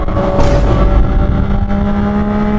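A motorcycle engine with an aftermarket Yoshimura exhaust rumbles loudly up close, a deep throaty tone that swells briefly as it revs.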